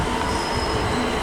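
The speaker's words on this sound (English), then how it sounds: "Also arriving is the 1344 London Northwestern Railway service to Birmingham New Street." A London Northwestern Railway train pulls into Liverpool South Parkway station on the West Coast Main Line, with a loud, steady rumble of wheels and a high, sustained squeal, close by.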